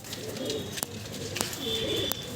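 Pigeons of fancy Bengali breeds coo low and steadily in a loft, with a few sharp clicks and a brief whistle-like tone over the cooing.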